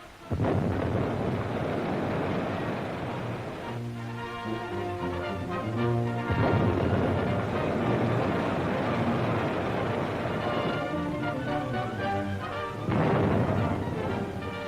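Depth charges from Y guns exploding at sea during a World War II anti-submarine attack, deep rumbling detonations rolling in heavy waves over a continuous dramatic orchestral score.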